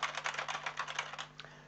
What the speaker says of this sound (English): if I keep typing